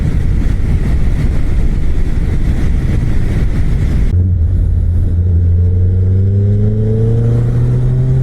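A Suzuki Hayabusa motorcycle speeds along a highway with loud, steady wind roar, then its engine note becomes clear and climbs in pitch as it accelerates hard.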